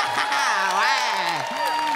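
A live comedy show audience in Trois-Rivières claps and cheers in a loud, sustained wash of applause with whoops, while a voice rises over the crowd.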